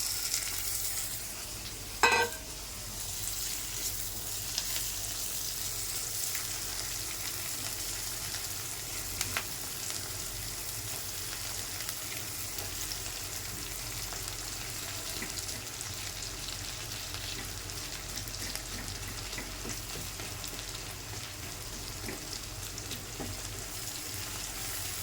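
Chopped onion, garlic and shrimp fry in a pan, giving a steady, even sizzle that runs the whole time. A sharp clatter is heard early on, with no talking.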